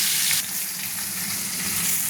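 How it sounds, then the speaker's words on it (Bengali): Four fish pieces frying in oil for a fish curry with potato, giving a steady, close, loud sizzle that eases slightly after the first half-second and continues unbroken with no voices. "এবার মাছগুলো লাল লাল করে ভাজা হবে।"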